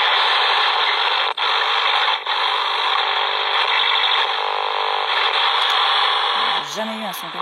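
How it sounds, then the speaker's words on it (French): A Ghostmeter paranormal detector switched on gives off a loud, steady electronic hiss and whine that holds unbroken for several seconds, up close, and then fades into a brief wavering tone at the end. "le Ghostmeter qui s'est mis en marche là sans raison et qui marche plus."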